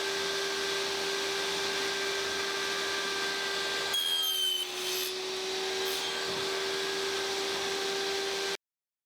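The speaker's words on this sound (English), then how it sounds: "I finished cutting the tenons." A machine cutting wooden tenons for a desk, with a steady high whine and whirring hum running throughout, a brief rougher burst of cutting partway through, then an abrupt stop.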